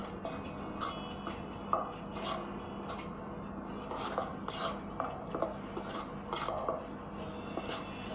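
A utensil scrapes and taps repeatedly against a bowl while stirring a shrimp fish cake mixture, a close, fairly quiet run of irregular clinks and scrapes with no talking.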